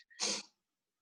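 A single short, faint sneeze from a woman, heard alone in an otherwise quiet room with a soft breath just before it.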